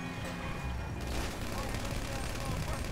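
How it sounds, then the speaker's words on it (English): Rapid bursts of video game gunfire crackle on and off through the whole stretch, dense and fairly loud, with no pause in the action. "I want to shoot Leroy."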